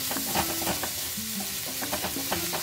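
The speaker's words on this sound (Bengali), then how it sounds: "পেঁয়াজটা একটু ভাজা হোক।" Onions and green chillies sizzle in a pan of leftover oil from frying fish, a steady crackling fry broken by repeated scraping and stirring strokes of a utensil, close and continuous with no talk.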